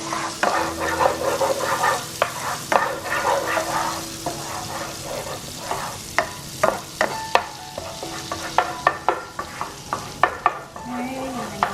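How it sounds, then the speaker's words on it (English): Chicken wings sizzle steadily in hot frying oil, with frequent sharp clinks and scrapes of stirring that grow sparser and more distinct toward the end, close up and with no talking. "we're going to let it fry"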